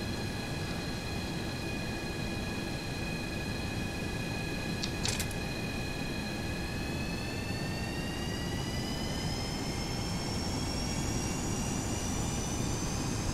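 Jet engines spool up steadily through a takeoff roll in the FlyJSim 732 flight simulator game, a constant loud roar with rising whining tones and one brief sharp click partway through.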